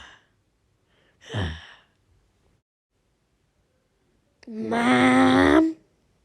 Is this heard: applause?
no